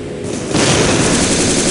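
A grenade launcher explodes in the video game Tactical Ops as a loud, sustained boom that swells suddenly and roars on without a break.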